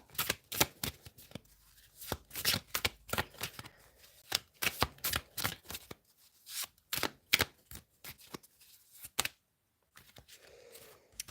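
Tarot cards are shuffled in quick riffling bursts, close and crisp, with short pauses, a few soft slaps as cards are drawn and laid down, then near-quiet at the end.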